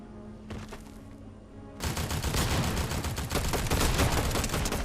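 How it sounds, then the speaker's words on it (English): Gunfire in the Fortnite video game begins as faint shots and then turns into a dense, sustained barrage of rapid overlapping bursts, loud and continuous to the end. "Shots were firing everywhere"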